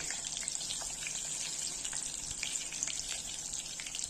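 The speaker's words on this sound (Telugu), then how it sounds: "ఆయిల్ వేడి చేసుకున్న తర్వాత ఒక్కొక్కటిగా వేస్తున్నాను కాకరకాయలు ఫ్రై చేయడానికి" Bitter gourds frying in hot oil in a pan, giving a steady bright sizzle with small crackles and pops throughout, close and continuous with no talk.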